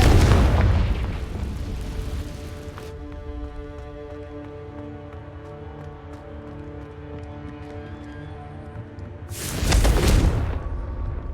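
Fire spell explosions in the Hogwarts Legacy video game: a loud booming blast opens, a sustained tonal musical hum follows, then a second heavy explosion bursts near the end, with no talking.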